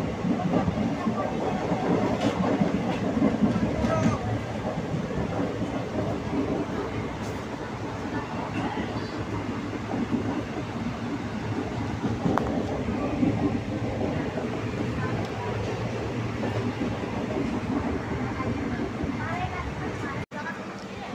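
A train rolls along the railway near Rangapahar, a steady dense rumble with rail clatter holding for the whole stretch, close and loud, with faint voices in the background.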